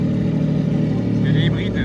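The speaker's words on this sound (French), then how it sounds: "il a démarré le V12" Aston Martin Valkyrie V12 hypercar engine running at a steady low, throbbing rumble right after starting, close by, with voices and street bustle around it.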